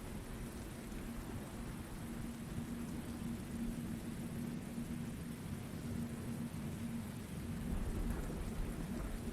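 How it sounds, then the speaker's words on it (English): Rain and thunder ambience for a Curse of Strahd tabletop session: a steady hiss of rainfall over a continuous low rumble of thunder that swells slightly near the end, with no voices. "Let's get out of the rain."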